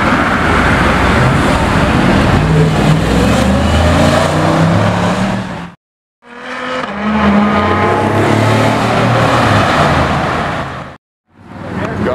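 A Ferrari F8 pulls away on a street with loud, continuous engine and road noise. The sound is broken by two brief gaps near the end.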